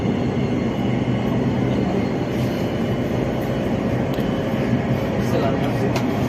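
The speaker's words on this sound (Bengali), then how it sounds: "আমরা এখন আছি ট্রেনের ভিতরে, ট্রেন অলরেডি ছেড়ে দিছে।" Steady rumble and rush of a moving metro train in Saudi Arabia, heard from inside the car near the front, a continuous close roar with faint squeals running the whole time.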